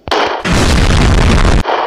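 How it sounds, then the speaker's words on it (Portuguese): A gunshot in the Granny horror video game: a sharp loud crack at the start, then a heavy booming blast that rings on for over a second before cutting off abruptly, leaving a softer tail. "vem o último tiro"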